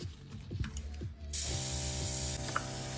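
Makeup setting spray misted onto a face during a makeup application, a broadband hiss starting about halfway through and holding steadily to the end, fairly close over a soft musical background.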